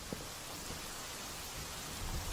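Steady heavy rain from a storm over Bombay, a dense constant hiss that fills the moment, with faint low rumbles underneath and no voices.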